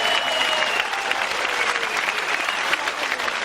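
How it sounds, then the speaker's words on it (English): Steady applause from a grappling event crowd cheering Polaris competitors, dense continuous clapping at close range with no voices over it. "let's give another round of applause for these Polaris competitors"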